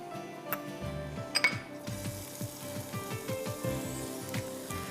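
Chopped onion dropped into hot oil in a wok for chicken chow mein, giving a soft crackling sizzle with scattered pops and clinks, heard close under a faint tonal background.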